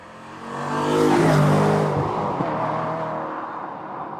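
An Aston Martin DB9 engine revs up, swells to a loud peak, then settles into a sustained rumbling drone as it eases off.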